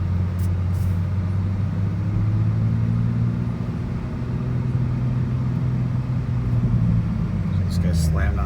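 A 2020 Toyota Supra moving in traffic on its own, with a steady low engine and road rumble throughout and a gradual rise in engine tone as it accelerates, a voice talking over it.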